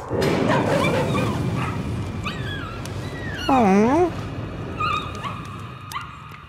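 Dogs whimper, yip and bark in the horror game Layers of Fear, a drawn-out rising and falling whine standing out mid-clip, while a voice speaks briefly at the start.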